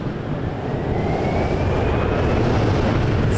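Jet engines of an airliner spool up at Toronto Pearson airport, a steady broadband roar with a slowly rising whine that swells gradually and fills the whole stretch.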